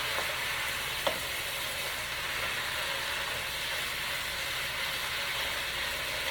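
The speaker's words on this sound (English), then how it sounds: "You want the vegetables to remain and have a little bite of crisp to it. So we're going to keep on stirring." Pepper steak vegetables cook over high heat in a pan, giving a loud, even, unbroken sizzle that holds steady throughout, with one brief knock early on and no voices.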